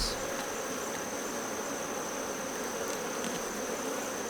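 Honey bees buzz steadily around an open Apimaye hive during a honey harvest, a dense, even drone with no voices.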